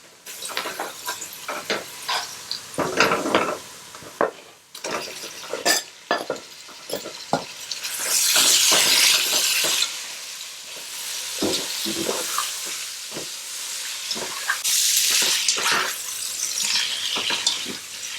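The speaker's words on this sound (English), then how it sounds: "you want to make sure your meat gets brown evenly and all over. So it does require maybe like 4 or 5 minutes of continuous stirring" Meat browning in a pan for Persian gheymeh sauce, stirred continuously: rhythmic scrapes and knocks of a spoon over a steady sizzle, with bursts of louder frying hiss.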